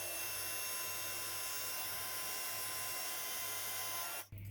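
A heat gun melts violet embossing powder with a steady, faint blowing hum that cuts off abruptly near the end.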